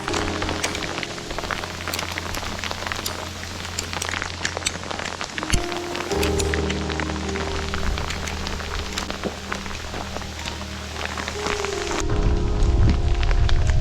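A huge hailstorm on a Continental Divide Trail hike, hailstones clattering densely onto the ground and gear in a steady, crackling patter, close and loud, growing heavier toward the end.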